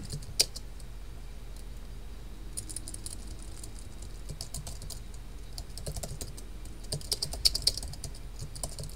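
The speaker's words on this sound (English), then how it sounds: "So I just typed in a very brief kind of overview here" Someone types a short search term on a computer keyboard, a steady run of light key clicks with a few sharper taps, close and alone over quiet room noise.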